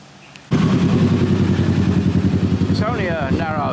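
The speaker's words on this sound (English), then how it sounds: "It's only a narrow main road, but it is quite busy, especially with the motorbikes which travel up and down." A motorbike engine roars close by on a busy, narrow main road in Koh Samui, a loud steady drone that fades as it passes, with another engine revving near the end.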